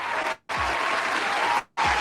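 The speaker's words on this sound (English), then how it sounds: "Round of applause." An audience in Michigan breaks into loud, close applause, dense clapping that cuts off sharply twice before starting up again.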